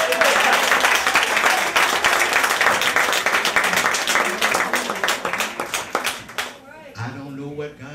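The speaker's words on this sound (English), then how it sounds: "let's give God a hand clap" A club audience at a gospel-style inspirational night claps and cheers loudly and densely, then the applause thins out and a voice begins speaking near the end.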